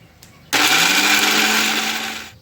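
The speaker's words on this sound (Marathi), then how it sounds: "चला आता मिक्सरला वाटून घेते मी" A mixer grinder switches on abruptly and whirs loudly and steadily for about two seconds, grinding garlic, cumin and peanuts, then begins to wind down.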